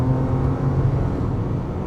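A modified Audi S4 B8 with its airbox cut open gives a steady, close engine whine over a dense low rumble, holding even for a couple of seconds with no talking.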